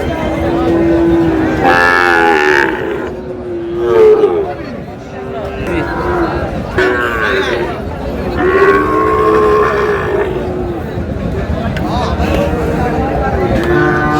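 Sahiwal cattle lowing and bellowing amid a noisy outdoor crowd at a cattle market in Chattogram, with several drawn-out calls over steady chatter and background bustle.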